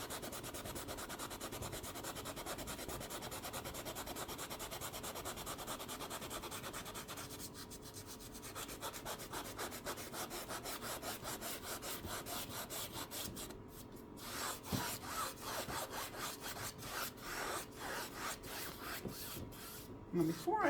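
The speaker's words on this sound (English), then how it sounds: "I'm going to blend the same way by just scrubbing that paint together." A paintbrush scrubs paint together to blend cloud layers, a faint, quick back-and-forth rubbing that goes on steadily, close up and alone.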